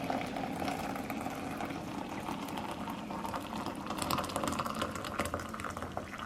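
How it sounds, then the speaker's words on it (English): Hot water is poured steadily into a bowl to set up a bain-marie for melting chocolate, giving a continuous close, bubbling rush of liquid that holds even and fairly loud for several seconds. "we're just going to put the hot water in here. Just fill it all the way up."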